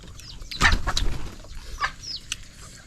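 Chickens clucking outdoors near rice fields on an evening, a few short calls and a brief flutter of wings at moderate distance, alone without speech.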